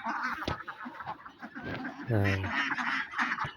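Several ducks quack and honk in a noisy flock at a duck farm nearby, with a person talking over them.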